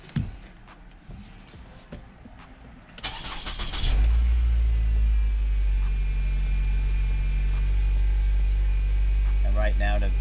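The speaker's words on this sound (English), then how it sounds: "So let me start the engine here." A car engine cranks briefly with a short burst of starter noise, then catches and settles into a steady, low, close idle rumble that continues to the end, with a voice heard faintly near the end.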